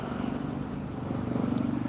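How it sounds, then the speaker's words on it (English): A helicopter flies overhead near a hospital, a steady low rotor drone with a rumbling, slightly pulsing beat that holds evenly throughout. "It's a helicopter."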